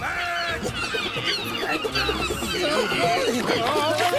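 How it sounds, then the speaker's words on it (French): Harsh, squawking seagull calls in an animated cartoon repeat in quick succession over a busy, noisy background, close by and fairly loud. "Ah, satané mouette. Je ne supporte pas ces oiseaux-là."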